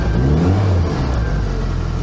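A classic Mini's cold engine, running without choke, revs loudly and steadily at close range, a continuous throaty drone that swells slightly in the first second before settling.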